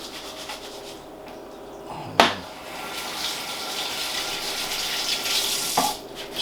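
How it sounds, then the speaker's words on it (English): Running tap water splashes over hands being washed at a sink, a soft continuous rushing broken by a couple of sharper knocks, close and fairly quiet. "And what I'll do is I'll wash my hands."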